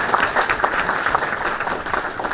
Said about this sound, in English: And you must clap for that